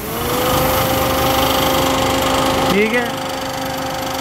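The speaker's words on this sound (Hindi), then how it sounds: "अब आप इसकी नॉइस सुनो। इंजन भी वाइब्रेट कर रहा है, ठीक है, थर थर कांप रहा है ये।" Small 660cc engine of a 2023 Suzuki Alto VX idling with the newly fitted air conditioning switched on, a steady loud buzzing hum with a vibrating drone throughout; someone speaks briefly near the end.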